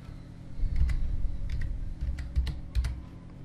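Text being typed on a computer keyboard to add words to a Microsoft Word page: a short run of quick, close key taps with small pauses, steady low room hum underneath and no talking.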